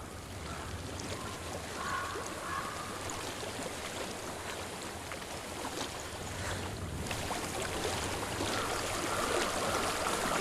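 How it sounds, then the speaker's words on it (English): Flowing water stream in the game Hellblade: Senua's Sacrifice, a constant broadband rush and babble of water, fairly faint and steady, with no speech over it. "I hear water."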